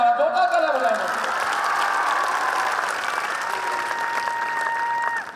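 Sustained applause fills a hall at a student celebration for JEE results, loud and even from start to finish, with no break in the clapping.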